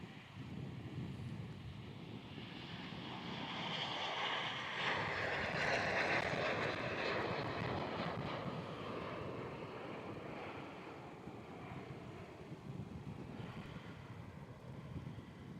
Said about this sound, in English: Sri Lankan heading back to Colombo, departing here runway 16 at Melbourne